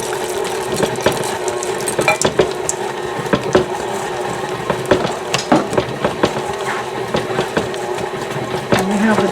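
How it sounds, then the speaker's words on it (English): Electric mixer running on very slow speed through chocolate chip cookie dough with chocolate chips, a steady mechanical whir with small irregular knocks and clicks throughout, close and fairly loud. "I'm going to mix this on very slow speed"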